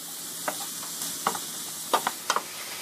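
Onion, bell pepper and mushroom sauteing in a pan make a soft constant sizzle, broken by a few sharp clicks and scrapes of the utensil in small clusters, close up and without speech.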